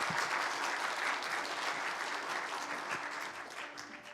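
Applause from a church congregation at a Sunday combined worship service, a dense, sustained wash of clapping that holds steady throughout and eases slightly toward the end.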